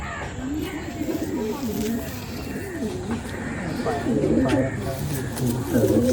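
Madrasi pigeons, Malwai Madrasi kabootar, give repeated soft throaty coos, close and steady, with faint background noise and some overlapping calls throughout.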